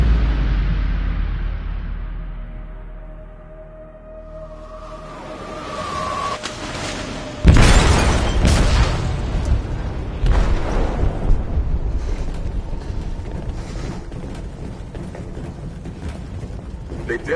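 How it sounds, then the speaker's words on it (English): A heavy explosion booms in a ship's hold in Detroit: Become Human, a sharp blast followed by long rumbling, creaking and rattling as the vessel shudders, preceded by a low mechanical drone. "They detonated an explosive in the hold. The ship is sinking, sir."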